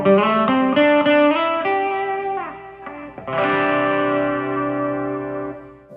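An electric guitar plays through a delay effect set to three repeats, with sustained chords trailing echoing repeats that thicken the tone and ring out alone.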